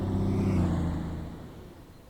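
A Cross Country Voyager diesel train engine in Train Sim World rumbles steadily at speed, loud at first and then fading a little over about two seconds.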